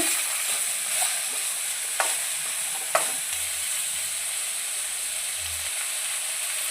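Chopped onions fry until golden for a masala dosa potato filling. A strong, continuous sizzle fills the clip, marked by a few sharp scrapes of a stirring spatula and no talk.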